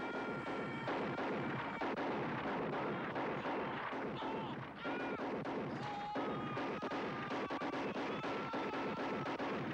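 Gunfire from the RoboCop film scene: rapid bursts of shots and impacts crackle over a busy film soundtrack, fairly quiet overall and continuous throughout.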